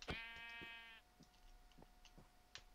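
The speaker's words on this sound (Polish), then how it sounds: "Co tu robi owca?" One clear, drawn-out sheep bleat from the Minecraft video game, close and distinct, followed by soft scattered clicks and taps with no talking.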